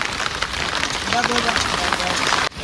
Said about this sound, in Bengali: বৃষ্টি পড়ছে, মেঘটাও যেই